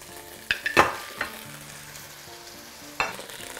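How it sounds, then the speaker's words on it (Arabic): Meat frying in a little oil in a pot for a mushroom-cream roast, a quiet steady sizzle broken by a few sharp clinks and scrapes of stirring, close up with no talking. "هنحط بس شوية زيت أول حاجة هنعملها هنحط اللحمة بتاعتنا"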